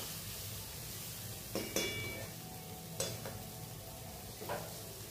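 Masala spices for ghugni fry quietly in a pan: a soft, continuous sizzle with a few distinct metallic clinks and scrapes from stirring.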